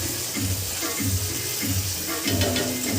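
Water poured into a cooking pot while making mutton curry, a loud, continuous rushing hiss close up, with faint rhythmic low thumps pulsing underneath.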